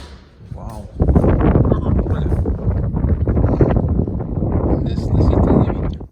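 Strong wind buffets the microphone outdoors in Prague at sunset, a loud, constant roaring rush that starts abruptly and persists to the end.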